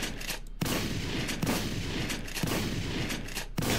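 Gunshots in a Family Guy video game ring out as several loud, separate bangs at irregular intervals inside a house, each one sharp against a quiet room background.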